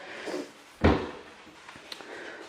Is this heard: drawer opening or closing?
yes